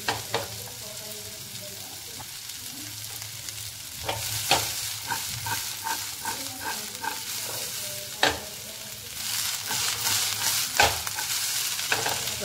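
Finely chopped okra stirred by hand in a hot oiled pan for a dry Marathi bhendi sabzi, giving a steady close sizzle broken by repeated scraping and tossing strokes.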